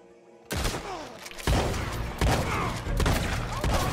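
Gunfire in Red Dead Online, with loud, sharp shots cracking close by after a quiet opening and a dense rumbling volley continuing through the rest.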